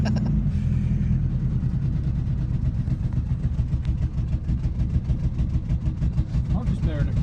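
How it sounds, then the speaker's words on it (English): A 1992 Buick Roadmaster estate wagon with a broken frame idles at traffic lights, its engine giving a steady, close low rumble with a buzzy, golf-cart-like quality that continues without a break. "why does your car sound like it's like a golf cart?"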